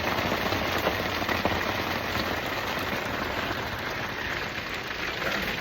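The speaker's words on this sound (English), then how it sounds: "Hopefully this rain gets out of here in just a little bit." Rain drums on a tent during truck camping, a steady close hiss with distinct drops pattering on the fabric, continuous and unchanging with no talking.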